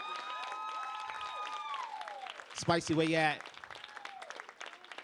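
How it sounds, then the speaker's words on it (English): An audience at a panel event applauds steadily, a continuous patter of clapping, while people talk over it and a loud voice calls out briefly midway. "y'all give a round, give applause for Spicy Mary"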